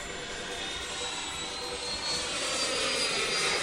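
An electric RC plane flies overhead, its motor giving a steady, fairly faint whine with a broad rushing hiss that swells slightly toward the end, with no voices.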